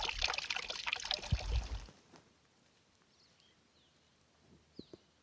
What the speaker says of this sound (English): This nice little trickle was just enough to fill up my water bags.